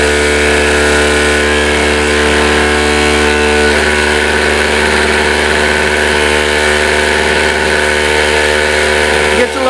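A homemade coil motor spins at over 5,000 RPM, giving a steady, loud mechanical whine with strong even tones that hold constant throughout with no pauses.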